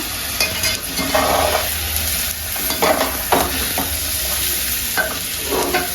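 Food fries in a pan in a home kitchen, a bright continuous sizzle with repeated close spatula scrapes and stirs at an uneven pace, no voices.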